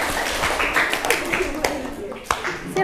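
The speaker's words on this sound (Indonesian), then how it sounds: "Beri aplaus untuk kelompok 4." An audience claps for group 4 in a classroom presentation, scattered hand claps and taps over a few seconds, with people talking over the applause.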